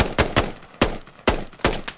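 Gunfire in a multiplayer shooter video game: five sharp, loud shots fired at an irregular pace, each with a brief decaying tail, with no voices.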